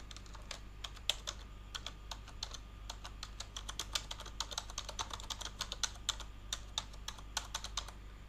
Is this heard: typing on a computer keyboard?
yes